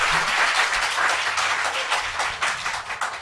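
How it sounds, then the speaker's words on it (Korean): A studio audience at a talk show claps in a steady, moderately loud wash of applause, with no voices over it. "박수!"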